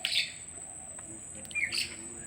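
Bank mynas and pied mynas call outdoors in Bangladesh, giving a few bright chirps and tweets at the start and near the end over steady faint background hiss.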